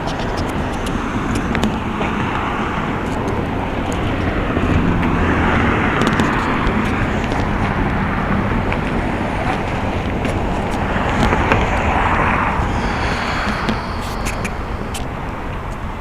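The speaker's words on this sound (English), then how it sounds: "The trucks that are passing by, the buses that are slamming their brakes, noise." Continuous street traffic on a busy Scarborough road, a dense wash of passing vehicles with trucks and buses swelling and fading close by, no voices.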